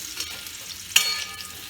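Potato pieces fry in hot oil for a snakehead fish curry, giving a soft, steady sizzle broken by one sharp clink of a utensil midway.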